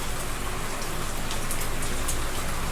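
Heavy rainy-season rain pours steadily in Naga City, Bicol, Philippines, a dense, loud, unbroken hiss of drops hitting surfaces nearby, with no voices.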